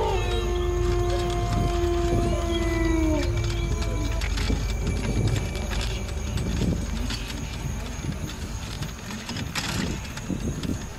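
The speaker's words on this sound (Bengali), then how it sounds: "আশেপাশ থেকে ভেসে আসছে ঝিঝি পোকার ডাক এবং শিয়ালের ভয়ঙ্কর" A jackal howls at night in a Bengali horror cartoon, one long wavering cry that slides downward over the first few seconds, then gives way to scattered rustling and background night noise.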